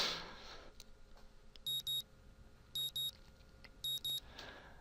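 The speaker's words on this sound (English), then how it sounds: "My morning alarm goes off" Morning alarm in the Katawa Shoujo video game, three evenly spaced bursts of paired electronic beeps, each burst a quick double chirp, clear and alone over a quiet background.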